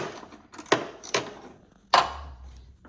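Three sharp metallic strikes of a hammer on a metal part during a 4.6 3V Mustang engine rebuild, spaced unevenly, each a loud crack with a short ring, with quiet rustling between and a low hum at the end.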